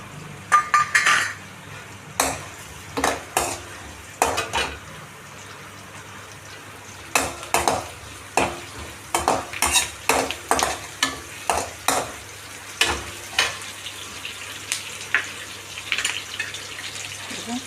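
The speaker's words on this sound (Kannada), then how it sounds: "ಇವಾಗ ಕರಿಬೇವು ಹಾಕ್ತಾಯಿದ್ದೀನಿ" Curry leaves fry in a pan with browning onions, a low sizzle running under a long series of sharp rhythmic clinks and scrapes as a spoon stirs against the metal.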